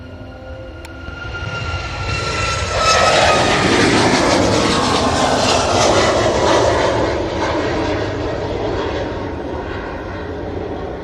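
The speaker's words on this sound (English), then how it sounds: "Ryanair 737 Max off to Alicante." A Ryanair Boeing 737 MAX takes off for Alicante, its engine roar swelling loudly from a distant rumble into a broad, close thunder, then holding and slowly easing away.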